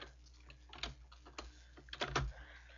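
Keystrokes on a computer keyboard, typed in short irregular bursts of clicks, fairly close and quiet, with no talking.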